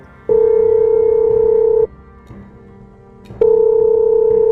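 Telephone dialing tones in an animated drama film: two long, steady, loud tones separated by a quieter pause, with no voices.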